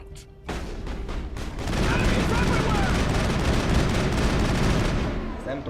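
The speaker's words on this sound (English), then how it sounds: "Shotgun." A shotgun fires in the Mass Effect video game, a burst of dense, booming blasts that follows a quieter opening and continues in a heavy, sustained barrage of gunfire.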